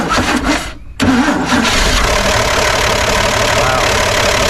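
A 1955 Chevy engine, its carburetor bowl just filled, cranks briefly, falls silent for a moment, then catches and roars to life, settling into a loud, steady run close by.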